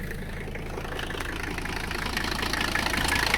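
Mercedes 300CD diesel engine running on after being shut down, a steady rough knocking rumble that keeps going and grows slightly louder, close by with no talk.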